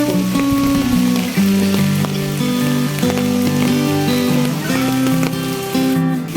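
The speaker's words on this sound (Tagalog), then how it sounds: "Nakapayong tayo kasi umuulan." Rain falling on umbrellas at a farm house resort, a steady dense pattering hiss that continues under a tuneful music track.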